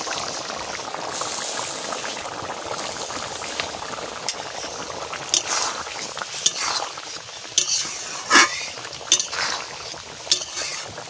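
A taro and fish head curry with ground fried spice paste added bubbles and boils steadily, with occasional clinks and scrapes of a spoon stirring the pot, close and moderately loud.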